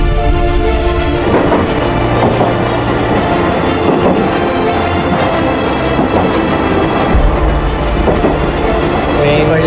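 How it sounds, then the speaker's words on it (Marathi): A local train departing Kasara station, rumbling loudly nearby with squealing wheels and rhythmic rattling of cars, a continuous heavy roar as it rolls along the tracks. "आता इथून 3:41 ट्रेन निघाली आहे"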